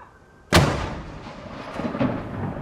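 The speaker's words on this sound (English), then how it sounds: "96 guns rang out from Edinburgh down to Gibraltar, one for every year of the Queen's extraordinary life." One deep artillery boom from a gun salute for the late Queen cracks out sharply and rolls away in a long echo, with a fainter distant report following about 1.5 seconds later.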